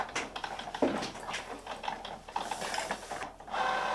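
A Cricut cutting machine slicing a decal gives off a busy, close mechanical whir with ratcheting clicks and small shifts in pitch for about four seconds, with no voices.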